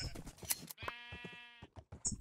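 Sheep bleating once in a long wavering call in a video game, set between bursts of nearby voices talking, with a few short electronic blips.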